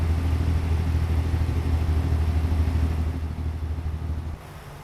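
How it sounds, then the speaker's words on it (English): Truck engine brake in American Truck Simulator, a steady loud low rumbling drone with a fast pulsing chatter that cuts off abruptly near the end, leaving a quieter hum. "See what the engine brake sounds like."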